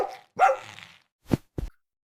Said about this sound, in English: the rapid-fire, mid to high-pitched bark in groups of 3 or 4